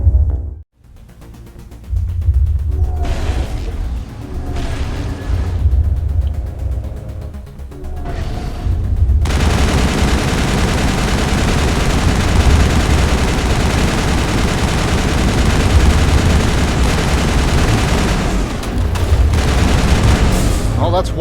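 Loud, continuous bursts of gunfire and heavy mechanical clatter in Mass Effect, including one-shot kill weapons, roar through most of the stretch after a quieter opening with scattered shots; a voice speaks briefly early on.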